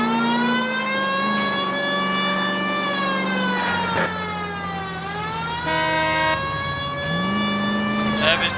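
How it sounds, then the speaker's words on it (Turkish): Police car siren in the video game L.A. Noire, a loud wailing tone sliding up and down continuously over an engine drone, with faint talk underneath. "Sirenleri açacak gidek de."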